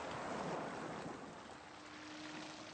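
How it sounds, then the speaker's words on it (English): Waves break on a shingle beach and draw back across the stones, a broad rushing swell that peaks early and then eases into a softer, steady wash, heard close with no voices. "That is the sound of the waves crashing on a shingle beach."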